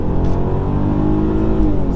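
An ABT-tuned 3.2 V6 Audi A3 accelerates hard, its engine a loud, steady, deep drone heard from inside the car and continuous throughout.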